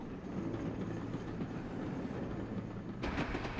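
Train on a railway track in Norway carrying heavy water, a quiet continuous rumble with faint wheel clatter, a brighter metallic burst near the end.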